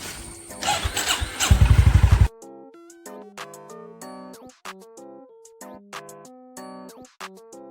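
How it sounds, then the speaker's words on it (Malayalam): A motorcycle engine cranks and fires in rapid pulses, then settles as the bike pulls away from a house, revving and shifting through gears in rising and falling tones, close and loud. "ബൈക്ക് സ്റ്റാർട്ട് ചെയ്ത് വീട്ടിൽ നിന്ന് പുറപ്പെടുന്നത്"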